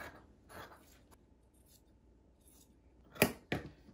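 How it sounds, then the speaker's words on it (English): Scissors snipping through cotton fabric: a few soft crunching cuts, then two sharper, louder snips near the end, close up with quiet pauses between. "You can cut as many layers as your scissors will cut through."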